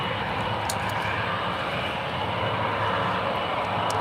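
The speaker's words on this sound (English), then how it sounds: "this is KLM Flight 282 heading back to Amsterdam. It's a 777-200ER" Jet engines of a KLM Boeing 777-200ER airliner at San Francisco International Airport roar as a loud, steady, broadband drone that holds constant throughout.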